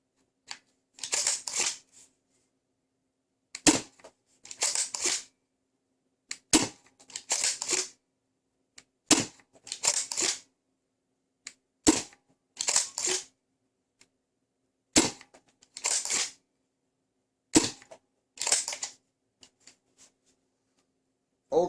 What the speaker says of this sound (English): Let me first shoot a couple max dart